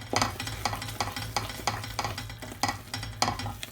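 Eggnog fudge mixture is stirred in a pan on the hob, giving a steady series of rhythmic scraping strokes, about two each second, close and fairly loud over a low hum.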